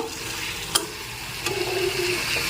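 Egg curry (dim kosha) being stirred and mixed in a pan, a steady scraping stir over soft sizzling with a sharp clank of the spoon early on and another knock midway, no voices.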